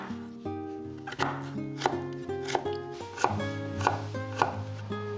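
A knife dices a small carrot into tiny cubes on a cutting board, with steady, evenly spaced chopping taps over soft background music.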